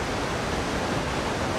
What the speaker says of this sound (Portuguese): Olha o barulhão da água aí, ó, que delícia.